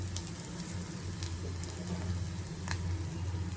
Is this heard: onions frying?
yes